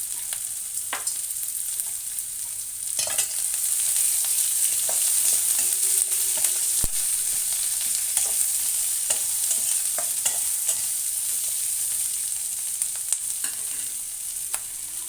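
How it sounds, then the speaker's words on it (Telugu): Onions frying with asafoetida and salt, a steady bright sizzle with repeated spoon scrapes and stirring clicks close by, continuing for the whole stretch without talk. "ఉల్లిపాయలు వేగాయండి."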